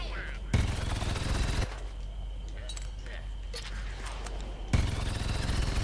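Rapid automatic gunfire from the Sky Trooper in the Plants vs Zombies Garden Warfare video game comes in two dense bursts, one near the start and one at the end, with someone talking through the quieter gap.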